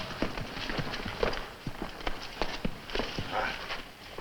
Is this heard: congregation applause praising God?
no